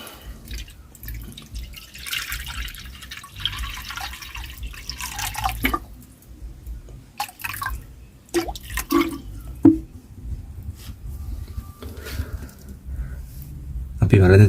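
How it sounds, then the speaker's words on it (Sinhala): Water from a tap runs and splashes into a cooking pot for noodles inside a cave house, an uneven trickling and dripping stream that stops and restarts, with a voice speaking at times. "අපි මේ වලදට වතුර ටිකක් දාගෙන නූඩල්ස් එක හදන්න පටන් ගමු"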